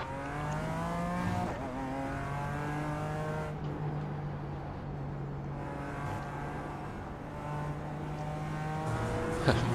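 A race car pulls out of the pit lane on cold tyres in iRacing at the Nürburgring Nordschleife, the engine a steady droning tone that climbs and shifts as it accelerates, fairly quiet with no talk.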